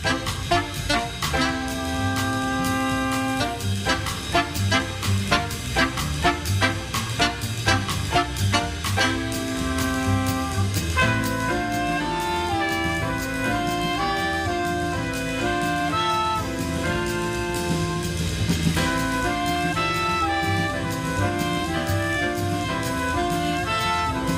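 A lively jazz band plays, trumpet leading over a horn section with saxophones, driven by steady percussion; loud and continuous without speech.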